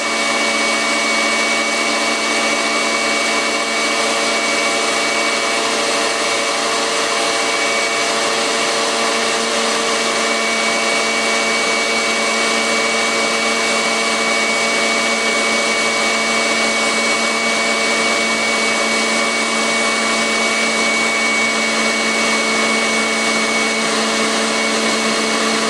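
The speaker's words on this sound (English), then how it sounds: "We are ready to drizzle approximately 1/4 of the hot syrup into mixer while beating the egg whites." Stand mixer whipping egg whites for almond nougat, a steady loud motor whir with a constant high hum that never changes in pitch or level for the whole duration, no voices over it.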